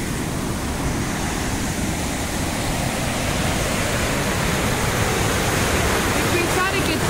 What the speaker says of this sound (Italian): guardate come si è ingrossato il canale